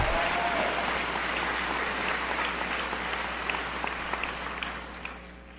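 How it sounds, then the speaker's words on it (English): A crowd at an evening rally in Toronto gives a full round of applause. The clapping starts loud and dense, then tapers off over several seconds, with a few scattered claps at the end. "a round of applause"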